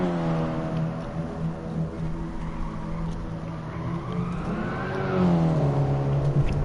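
Simulated Ford Focus race cars in a virtual league round at Tsukuba, engines droning steadily with harmonic whine that rises and falls through a corner, loud and continuous with no talking.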